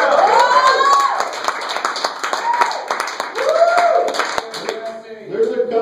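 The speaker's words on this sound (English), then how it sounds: "Can I give a round of applause for people here that do have kids" A comedy club audience claps and cheers for parents in the crowd, with sharp individual claps, a few whoops and scattered voices close by; the applause swells and dips rather than holding steady.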